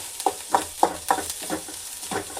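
Food roasting in oil in a pan is stirred with a steady rhythm of about seven scraping strokes, close and clear over a faint sizzle, with no talk.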